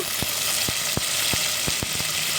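Chopped coriander and mint leaves sizzle steadily in hot oil in a pan, with a bright, continuous frying hiss punctuated by occasional pops and crackles.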